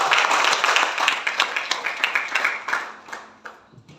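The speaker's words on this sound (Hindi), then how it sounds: "जोरदार ताली" An audience gives loud, dense clapping at a gathering, starting strong and thinning out toward the end as the claps become sparser and quieter.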